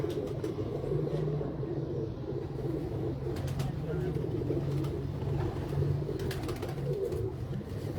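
Teddy Jansara pigeons coo continuously, a low rolling burble that fills the space, close and steady beneath faint rumble of distant traffic, with someone talking over them.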